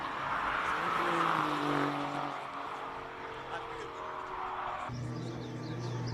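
A Porsche GT3 RS race car launches off the start line at a Cape Town hill-climb event, its engine rising in pitch then shifting, loud and sustained, with people talking over it.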